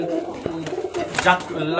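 A male Giribaz pigeon of an old Rajshahi bloodline coos close by in short soft bursts, with a fuller call toward the end and faint background noise.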